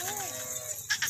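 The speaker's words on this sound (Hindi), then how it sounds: "अब मैं आपको दिखाने जा रहा हूँ मुंदरी भेड़े" Mundri sheep on a farm give a couple of short bleats, the clearest pair near the end, over a steady low farmyard hum with a faint voice underneath.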